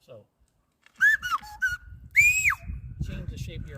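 Whistled notes from a small whistle blown over a little opening rather than the lips: a few short, bright tones that glide up and down, close by, with a voice talking between and under them.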